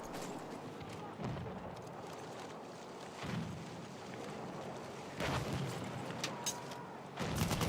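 Gunfire in an Incursions tournament match, heard as several short bursts of shots spaced a couple of seconds apart, fairly faint within a busy background of game noise.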